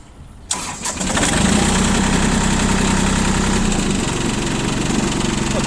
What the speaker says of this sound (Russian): Сейчас трактор запустим.